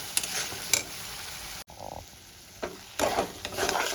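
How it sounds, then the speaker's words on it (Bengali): Peanut and sesame paste sizzles in a pan while it is stirred, a close, steady frying hiss broken by scraping strokes and a brief pause. Nobody speaks. "পেস্টটা দিয়ে আমি ভালো করে কষাতে থাকবো"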